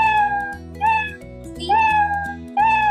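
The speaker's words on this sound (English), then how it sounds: "Play the meow sound until it's done." A cartoon cat meow sound effect plays repeatedly in a Scratch coding project, bright and clear over a steady synthesized backing tune, with a brief spoken word.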